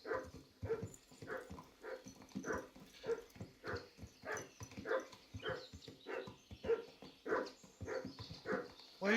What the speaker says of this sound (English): Why are you barking, doggy?